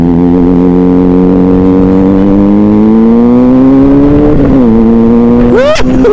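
A big motorcycle on a tour from Lampung to Depok idles loud and close, and the steady engine note climbs slowly before a quick sharp rev near the end, with no talking.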